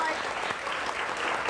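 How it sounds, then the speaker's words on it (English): A studio audience on a talk show claps in a brief, dense burst of applause, steady and fairly close, with no other sound standing out. "People applaud."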